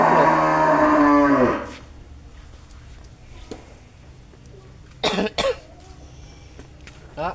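A big cow on a Tiền Giang breeding cattle farm lets out one loud, close moo that trails off. Quieter farm noises follow, including a cough and a few short bursts.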